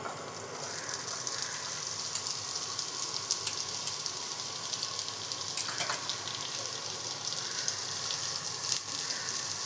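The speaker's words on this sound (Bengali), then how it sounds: "এবার পেঁয়াজটা ভেজে নেব আগে। এই কুচনো পেঁয়াজটা আমি দিয়ে দেবো।" Chopped onions frying in white oil in a wok, a steady hiss of sizzling with faint crackles and pops, alone without talk.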